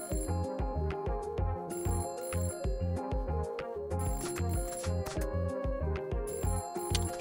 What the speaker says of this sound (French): J'ai le téléphone qui sonne.